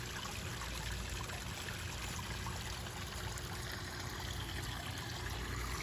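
Water from a backyard pond waterfall pours and trickles steadily, a constant close splashing wash with no voices over it.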